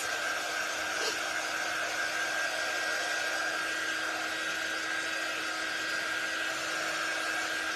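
Hair dryer blowing on glue for a craft door project, a continuous even whirring hum held at a constant pitch, close but moderate in level, with no talk.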